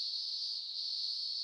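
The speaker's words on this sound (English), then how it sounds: "Is exactly the sound a cicada makes." A cicada's high, steady electronic buzz from the Windows 3.1 game Blinky Bill's Ghost Cave, a single unbroken drone held evenly for its full length with nothing else around it.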